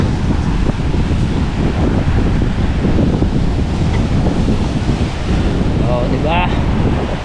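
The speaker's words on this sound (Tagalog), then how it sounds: "Kaya muna ako dito sa tabing dagat" Blustery wind buffets the microphone on a beach by brownish seawater, with a constant roar of surf and waves and a boat around. It holds loud and unbroken, with a brief whistling tone near the end.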